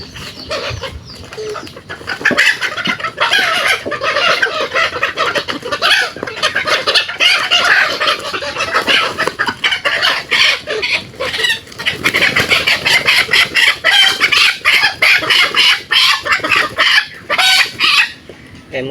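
Chickens being caught and vaccinated against Ranikhet disease on a farm in Cumilla, Bangladesh, clucking and squawking loudly and continuously, with occasional crowing and agitated calls throughout.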